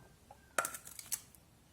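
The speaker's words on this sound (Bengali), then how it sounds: "পরিষ্কার করে জল দিয়ে ধুয়ে নেওয়ার পর এখন এগুলোকে আমি কেটে নেব।" A knife cuts raw green tomatoes on a board in a home kitchen, giving a few crisp, close clicks and taps in an uneven rhythm against a quiet background.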